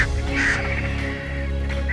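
Harsh, loud honking caws from scavenging birds competing over a carcass in the arid Serengeti ring out close and continuous, layered over one another.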